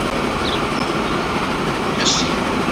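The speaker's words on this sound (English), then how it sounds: "passenger train will drive the tracks near soon" Passenger train in the video game Transport Fever 2 rolling along the tracks, a steady loud broadband rumble throughout with a faint brief squeal near the end.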